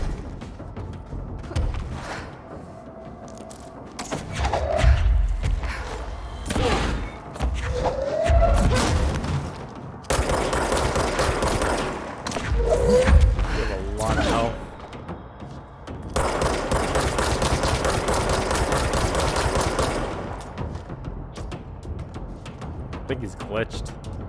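Bursts of gunfire and heavy thuds in the video game Control, with rapid firing clustered in several long loud stretches over a steady game backdrop, and people talking between them.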